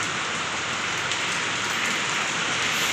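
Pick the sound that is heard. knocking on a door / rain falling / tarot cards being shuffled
rain falling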